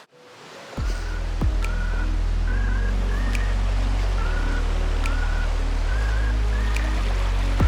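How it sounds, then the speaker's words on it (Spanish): A turkey at a mill house beside the Buñol River in Alborache, Valencia, gives repeated warbling gobbles at a steady pace over the constant low rush of a nearby small waterfall, with a few sharp clicks in between. "Atentos a los de la casa del molino que os acabo de comentar, que tienen animalitos, mirad, el pavo"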